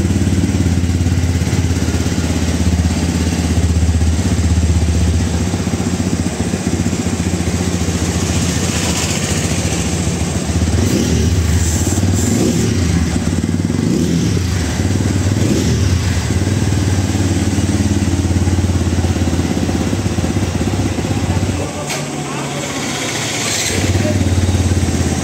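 A new motorcycle's engine idling and running steadily during a check, a loud continuous mid-pitched drone close by that dips briefly near the end before picking up again.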